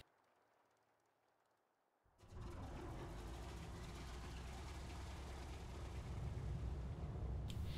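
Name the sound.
aircraft engine number 3 restarting in video game War Thunder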